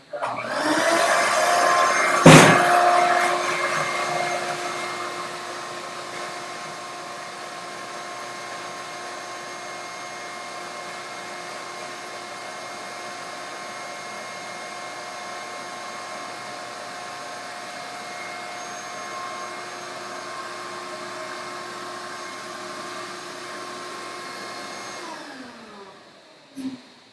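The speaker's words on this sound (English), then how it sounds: "the vacuum attachment works pretty well to keep the dust under control" A vacuum attachment on a floor grinding machine collects dust, a steady loud motorized whine with tonal hum that runs continuously, with a sharp knock near the start and the machine spinning down at the end.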